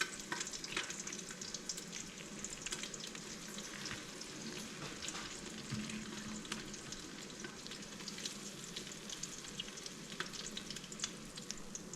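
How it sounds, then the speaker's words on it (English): Eggs fry in a Ninja Foodi with a continuous, fairly quiet crackling sizzle that holds steady throughout, unaccompanied by any voices. "Usually after I flip the eggs, I shut the Foodi off."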